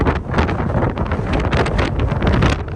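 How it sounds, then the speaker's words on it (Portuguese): Strong gusty wind buffets a phone microphone at a windy lookout in Hawaii, a loud, continuous roaring rumble that fills the whole clip with no voice over it. "Gente, é muito vento. Muito vento aqui."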